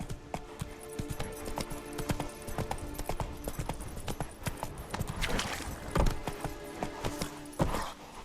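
Roach, the horse in the video game The Witcher 3, galloping at speed, dense rapid hoofbeats clattering continuously and fairly loud, with a few heavier thuds and game ambience mixed in.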